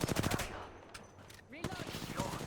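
Gunfire in an online shooter game, with a fast automatic burst up close, a short lull, then more rapid shots, under a voice speaking in the game.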